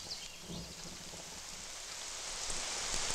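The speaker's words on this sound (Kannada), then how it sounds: "ಜೋರ್ ಮಳೆ ಉಯ್ತಾ ಉಂಟು" Heavy rain pours in a steady, dense hiss, rising slightly in loudness and heard alone without voices.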